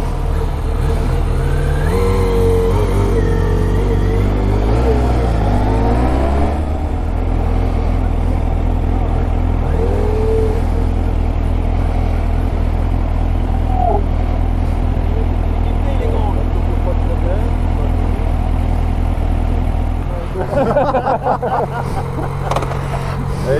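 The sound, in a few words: motorcycle starting off on a sloped road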